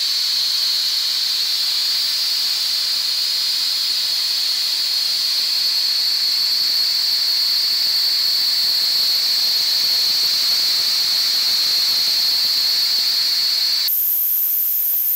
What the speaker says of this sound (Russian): как идет струя взвеси металла и оставляет напыление на бугеле